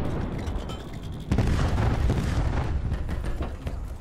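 A remote-controlled RC-XD car blown up in a Call of Duty match, giving one deep booming explosion that hits abruptly and rumbles out over a couple of seconds amid game noise.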